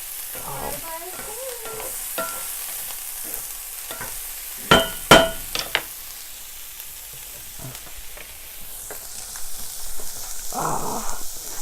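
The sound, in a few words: food frying and being stirred in a pan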